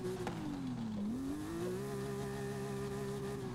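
A high, whining car engine note in the video game Forza Horizon 5 climbs, dips, then settles into a steady sustained drone, revving continuously with no talk.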